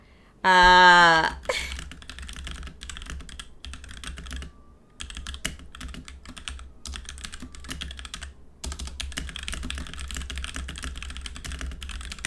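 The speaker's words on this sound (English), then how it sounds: "Listen to my super fast typing." Rapid typing on a computer keyboard, dense clattering keystrokes in continuous bursts with a couple of brief pauses, close and fairly loud, preceded by a short loud tonal sound.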